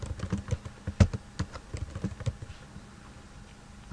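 Fingers tap on a computer keyboard in quick, uneven bursts of keystrokes while creating an account online, close and clear, slowing and fading toward the end.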